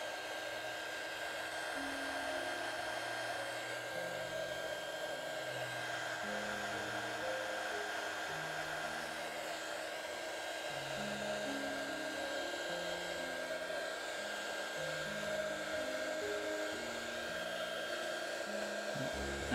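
A hair dryer blowing steadily on excess alcohol ink on a window, a constant whirring hum with a high whine, close and unbroken throughout, with a faint shifting murmur underneath.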